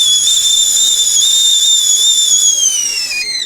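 A kettle's loud, steady high-pitched whistle sounds continuously, wavering slightly and dropping in pitch as it fades at the end, inside a camper van.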